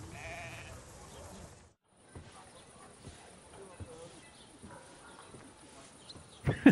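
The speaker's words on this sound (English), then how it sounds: "Oh, they're bringing the sheep in." Faint sheep bleats in the video game Kingdom Come: Deliverance II as the flock is brought in, scattered over a quiet outdoor ambience with soft thumps and a brief gap of silence.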